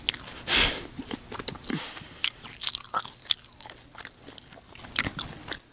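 Crunchy lumpia spring rolls bitten and chewed up close, with a loud first crunch followed by a steady run of crisp, crackly chewing noises.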